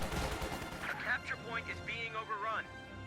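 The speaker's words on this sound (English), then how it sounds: "Volley fire does suppress them" Rifle volley fire from infantry troops in a WWII strategy video game, a dense burst of shots at the start, then continuing gunfire under an excited commentator's voice.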